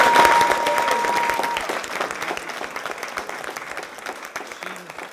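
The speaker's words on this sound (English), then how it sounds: "let's give her a big round of applause." Applause for an honoree at a Tampa City Council meeting, a burst of clapping from the chamber audience that starts strong and gradually thins out over several seconds.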